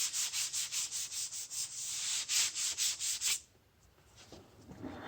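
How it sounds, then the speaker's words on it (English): A sanding pad rubs stain off wood in quick, even back-and-forth strokes, close and steady, about a dozen rasping passes before it stops, leaving quiet room tone and faint handling. "I'll take my sanding pad. Just barely rubbing on it"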